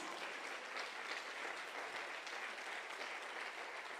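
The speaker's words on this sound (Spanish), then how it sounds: "Dale un fuerte aplauso al Señor Jesús." A church congregation claps for the Lord during a service, giving steady, sustained applause from many hands that fills the room evenly without letting up.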